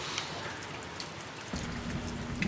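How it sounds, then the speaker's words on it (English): Steady outdoor rain falls with a dense, even patter of drops throughout, in foggy weather, and no voices are heard. "It's actually raining harder now, and there's a bit of fog rolling in"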